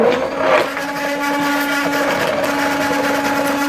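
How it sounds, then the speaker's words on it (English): Strong electric hand mixer motor whirring steadily while blending handmade liquid castile soap, a loud continuous buzzing hum with no pauses across the few seconds. "the motor on this hand mixer is so strong"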